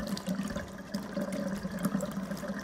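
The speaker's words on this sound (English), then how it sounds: "All right, we got purified water coming out of there." Purified water runs from a kitchen faucet in a model home, a steady close splashing rush with no voices.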